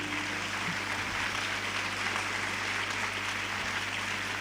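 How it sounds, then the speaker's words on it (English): Audience at an international conference of chief justices applauds, steady, dense clapping sustained evenly throughout, heard from within the hall. "And you can also prolong this applause for yourselves"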